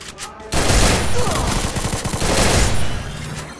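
Rapid bursts of gunfire from a Free Fire battle royale ranked match fill the clip, loud and near, with dense repeated shots after a brief quieter opening.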